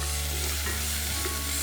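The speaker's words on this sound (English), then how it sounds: "Stir everything well." Chopped tomatoes, red chili, curry leaves, asafoetida and spluttering mustard seeds stirred in hot oil for an Indian dal tempering, a steady close sizzle with a few soft scraping strokes and no talk.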